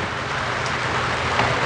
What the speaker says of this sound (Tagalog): Kasi lakas ng ulan sa labas eh.